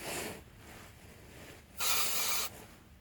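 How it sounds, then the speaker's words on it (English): A steady hiss of a grease spray can firing once for about half a second onto a rubber exhaust hanger on a 2012 Honda Accord, close by, over quiet background noise. "take grease, spray this"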